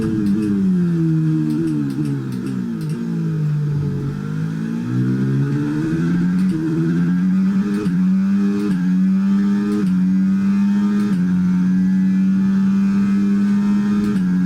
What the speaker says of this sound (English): Some acceleration in this car.